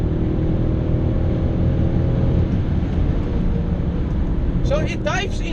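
A Mercedes C63 AMG coupe on a race track holds a steady, loud engine drone throughout, with a brief rising rev near the end as the throttle opens mid-corner.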